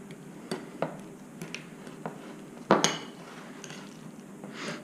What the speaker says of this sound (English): And you can stir it up a little bit too.